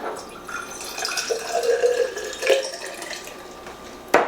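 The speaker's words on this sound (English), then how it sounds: "we're gonna start with some ice cold water, about 4 to 5 ounces" Ice-cold water, about 4 to 5 ounces, pours and trickles into a container, rising in bursts with a few drips, then a brief clink near the end.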